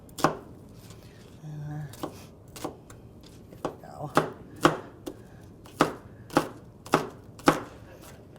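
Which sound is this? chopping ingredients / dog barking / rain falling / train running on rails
chopping ingredients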